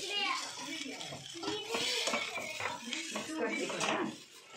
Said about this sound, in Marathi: हे मी 5 मिनिटं आधी छान धुवून आता मी त्याला छान मिक्स करते